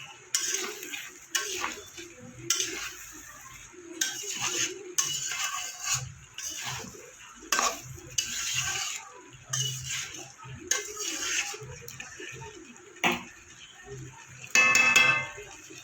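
Potol (pointed gourd) and potatoes are stirred with spices in a pan, and a utensil scrapes and clinks against the metal in repeated bursts roughly every second or two.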